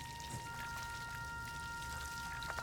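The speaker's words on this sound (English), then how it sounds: "Guess that explains the sound of running water." Filthy water spewing from slender rubber hoses in the horror game Death Mark 2, a steady, continuous pouring and splattering rush with scattered drips, heard alone beneath faint sustained tonal background music.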